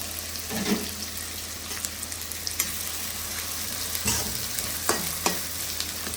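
Onions sizzle and fry in hot oil in a kadai for a chicken roast, with a steady crackling hiss broken by scraping stirs and a couple of louder spatters close by.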